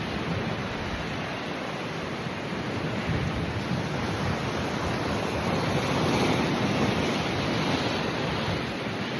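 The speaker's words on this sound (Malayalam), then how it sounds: "നല്ല കാറ്റാണ് ഗൈസ്, നല്ല കാറ്റ്." Strong wind blows at the seashore, a constant loud roaring rush buffeting the microphone, blended with the wash of surf and no voices.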